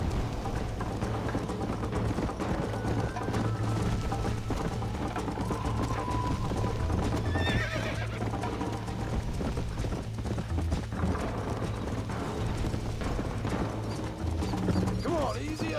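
Horse hooves clip-clop steadily in the Red Dead Redemption video game, a continuous rhythmic trot under game music and ambience, with occasional voices and a brief neigh.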